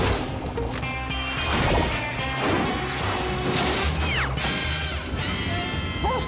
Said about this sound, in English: There's broken glass everywhere.